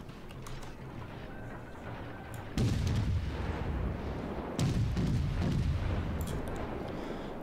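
Naval artillery booms out in the World of Warships game, two heavy salvos landing about two seconds apart with deep rumbling tails over a steady background hum.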